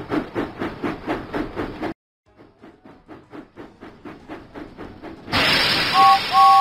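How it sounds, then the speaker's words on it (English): Steam locomotive chuffing in a Thomas and Friends video game: a regular train of puffs, a brief pause, then more even chuffs before a loud burst of hissing steam with a faint whistle-like tone. "James puffed proudly into Farmer Trotter's farm."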